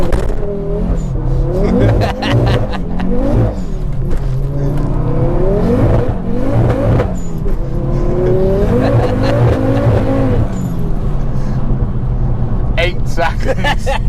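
Launch of a 570 BHP Ford Focus ST at a drag strip, the engine revving hard and bouncing through repeated rising and falling pitch sweeps as the tyres spin, loud and close, with voices talking over it.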